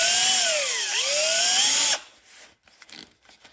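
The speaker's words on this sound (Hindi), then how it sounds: "तो मैं इस वक्त इसके अंदर एक ड्रिल करूँगा" An electric drill whines at high, steady pitch while boring a 1/8 inch hole into a broken bolt, the pitch dipping briefly under load before recovering, then cutting off abruptly, leaving faint clicks and handling noise.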